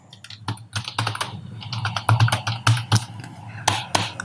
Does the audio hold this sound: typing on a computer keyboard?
yes